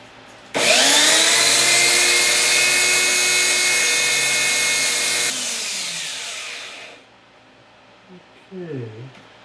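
A silver ring made from a Year of the Dragon silver round being sanded at 600 grit on a power tool, a loud steady whine for about five seconds that then winds down, followed by brief quiet sounds.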